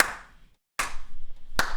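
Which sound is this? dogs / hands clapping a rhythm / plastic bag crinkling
hands clapping a rhythm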